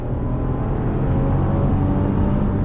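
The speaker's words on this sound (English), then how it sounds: "Let me do a little on throttle on the highway" A 2022 Genesis GV70 Sport SUV pulls hard on the highway under throttle, a steady loud engine drone and road roar heard from inside the cabin, with no talk.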